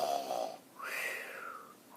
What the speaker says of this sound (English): On Monday, Daddy's snore boomed like a dinosaur's roar